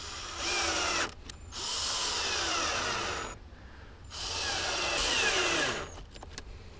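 A power drill drives fasteners into subwoofer enclosure brackets for a Kicker powered down-firing enclosure in a Jeep Wrangler, three steady whirring bursts of about a second each, separated by short pauses, close and loud.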